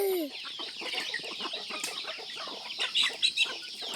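A flock of hens and chicks forage outdoors, clucking and peeping in a dense, continuous stream of short calls, with a few sharper chirps near the end.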